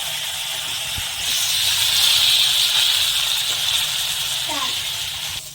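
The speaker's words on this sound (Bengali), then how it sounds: "এই মাছগুলো ভালো করে ভেজে নেবো" Amudi fish frying in hot oil in a pan for a spicy curry gives a loud, steady hiss that swells after the first second and holds evenly, with no other sound on top.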